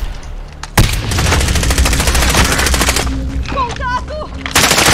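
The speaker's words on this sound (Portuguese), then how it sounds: "Estão atirando em mim!" Call of Duty Warzone gunfire from an M4A1 rifle, loud rapid automatic bursts rattling almost continuously, with a short electronic chirping tone near the end, intense and close.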